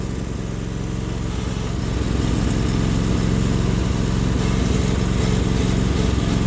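A Sears Suburban loader tractor with a 20HP V-twin engine cold starts in winter, with ice suspected in the fuel line. It runs as a steady loud engine drone that rises slightly in level partway through and keeps chugging evenly.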